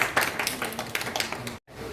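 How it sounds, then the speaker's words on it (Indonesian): A classroom of students applauds a classmate's presentation: a dense, steady patter of many hands clapping at moderate loudness, cut by a brief silent gap near the end before the clapping resumes. "Tepuk tangan untuk teman yang sudah mempresentasikannya."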